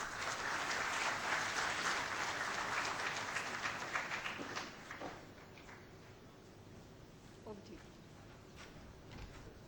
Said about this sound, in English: please give Ms. Badia a big round of applause